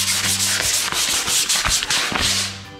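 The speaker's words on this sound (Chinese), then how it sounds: "我现在要来 用沙子把它 打磨。" Sandpaper rubs over a dried patch on a wall in quick back-and-forth strokes, a loud, close, continuous scratchy hiss with a rhythmic pulse and no talking.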